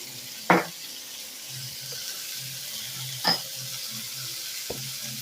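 Black cumin, green chili and pumpkin frying in a pan for a Bengali prawn dish, a soft steady sizzle heard close with a few sharp utensil knocks spread across the clip.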